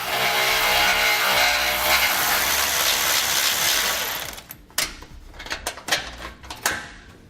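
A power tool whirs steadily while removing the 13mm bolts of the spare tire bracket on a 2016 Ford F-series truck, then stops, followed by several sharp metallic clinks and rattles of the loosened parts.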